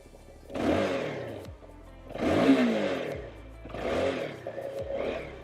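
A Keeway K300R sportbike engine revs up sharply three or four times toward 12,000 RPM, each rise climbing then dropping back, heard fairly close with no talking.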